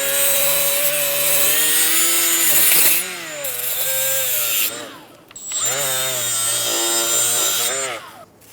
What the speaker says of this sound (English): or you can use a wire brush.